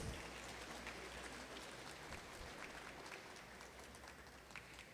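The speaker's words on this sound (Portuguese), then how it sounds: "Uma salva de palmas aos nossos patrocinadores." Faint, steady applause from an audience at the opening session of a literary festival in a thermal-spa hall, a dense, even patter of many hands continuing throughout without a clear break.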